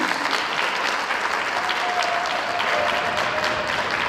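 Steady, full applause from a concert audience for a chamber orchestra violinist, continuous throughout with no talk over it.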